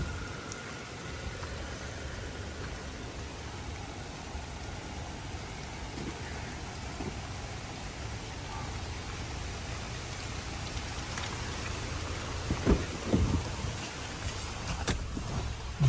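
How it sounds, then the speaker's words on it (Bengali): Steady rain falls in a dense, even hiss that continues for the whole stretch, with a few louder drops and patters near the end and no one talking. "দেখেন বৃষ্টি হচ্ছে"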